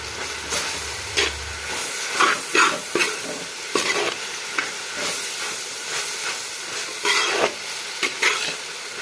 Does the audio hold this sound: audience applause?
no